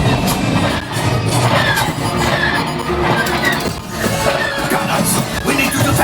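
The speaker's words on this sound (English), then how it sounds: "There's the train." Inside the Millennium Falcon Smugglers Run ride at Walt Disney World, a rumbling train chase scene surges with clanking metal and roaring motion effects, loud and continuous, under brief bursts of voices.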